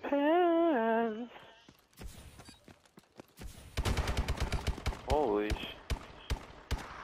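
Gunfire rings out in the video game Call of Duty Advanced Warfare as rapid bursts of sharp automatic shots, loud and close, between stretches of excited shouting from a player.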